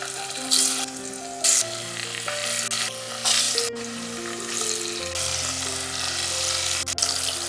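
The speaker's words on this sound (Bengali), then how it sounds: "দিয়ে দিচ্ছি সাদা তেল, সাথে দিয়ে দেব 1 টেবিল চামচ ঘি। পনিরগুলো ভেজে নেব।" Paneer pieces fry in white oil with a spoonful of ghee for a vegetarian paneer biryani, giving a continuous bright sizzle over a steady tonal background hum, with a few brief louder hissing bursts.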